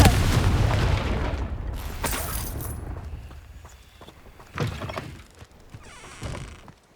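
A Confringo fire spell blast in Hogwarts Legacy, a loud booming burst at the start that decays slowly, followed by a couple of softer impacts and crackles later on, with no one speaking.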